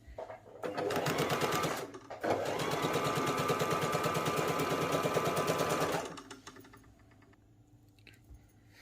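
Close up, a sewing machine stitches a hem strip for capri trousers in two loud bursts of rapid, even clatter separated by a short pause, then falls quiet with only faint handling noise.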